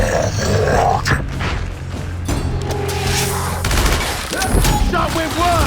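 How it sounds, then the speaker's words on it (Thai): Gunfire and explosions from the video game Gears Tactics, loud bursts of rapid shots and booms layered with in-game grunts, dense and continuous across the whole stretch. "ยิงใครยิงแจ็คก่อ"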